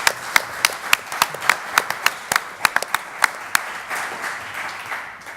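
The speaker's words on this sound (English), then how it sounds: "give him a clap." Audience applauding a newly elected MP for Bristol North West during a political discussion: scattered, fairly sparse claps with sharp individual hand strikes over a steady wash, tapering off toward the end.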